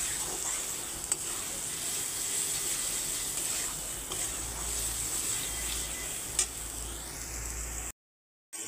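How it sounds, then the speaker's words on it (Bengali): Spices fry in oil for chicken kurma, a continuous high sizzling hiss with occasional faint clicks and scrapes of stirring, close and steady, no talk, cutting out briefly near the end. "মশলা দিয়ে আমি 2 মিনিট এখন কষিয়ে নেব"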